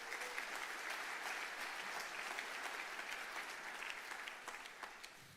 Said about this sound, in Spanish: Un aplauso para todos los intercesores.